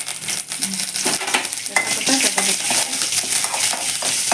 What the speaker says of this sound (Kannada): ಆಫ್ ಮಾಡಾದ್ಮೇಲೆ ಕರ್ಬೇ ಸೊಪ್ಪು ಹಾಕೋಬೇಕು